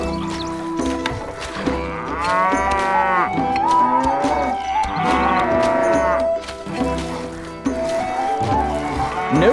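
Cattle in the video game Stronghold HD, afflicted by a strange malady, give several long, loud moos in succession over a low continuous backdrop, with no talking.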